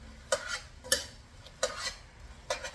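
Hungarian lecho is mixed in a pot with a spoon, giving four quick scraping, clinking strokes at a steady pace, close up and with no voices.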